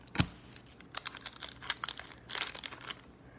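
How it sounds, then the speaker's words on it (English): A Pokémon TCG booster pack wrapper is cut open with scissors and handled close up, giving a quick series of crisp crinkles and snips in irregular bursts, with no talking. "Opening it pretty precisely with scissors."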